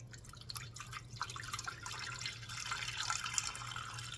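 Water being poured into a bread machine pan, a faint, steady trickle and splash with scattered drips that grows a little fuller toward the end, heard alone.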